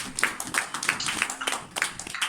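A church congregation claps loudly and irregularly in praise, a steady run of sharp overlapping hand claps close by with no talking.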